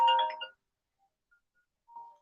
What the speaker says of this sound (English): my phone ain't gonna stop ringing